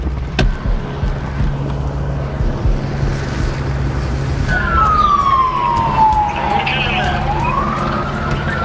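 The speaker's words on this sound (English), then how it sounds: "Dude, the helicopter's right there." A low steady helicopter rotor drone hangs overhead with a rising then falling siren-like whine crossing it, set against busy outdoor city noise in Los Angeles.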